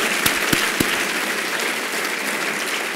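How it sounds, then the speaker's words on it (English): A crowd applauds steadily after a keynote speech, dense clapping throughout with a few sharper individual claps near the beginning, filling the room at a moderate level. "Let's give Vin another round of applause."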